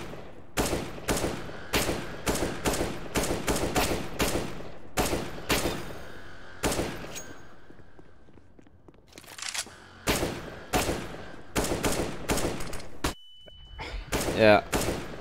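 Gunfire rings out in sharp, regular bursts on a CS:GO challenge map, each burst loud and close, followed by a pause and then renewed volleys, with someone speaking over the shots.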